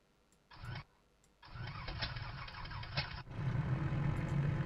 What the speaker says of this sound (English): Oh, hold for engine start.